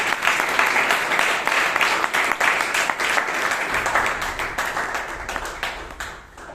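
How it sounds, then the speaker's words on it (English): An audience at a Toastmasters club meeting in Bangalore claps loudly and continuously, the applause holding strong before thinning out toward the end. "Please give a huge round of applause."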